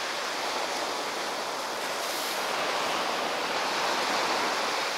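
Sea waves breaking on the Hokkaido coast, a continuous broadband wash of surf heard alone at moderate level, with a slight swell toward the end.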